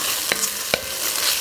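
Chopped onion for green chile stew hitting a hot pan, giving a broad steady sizzle with two sharp clicks or scrapes, close and alone.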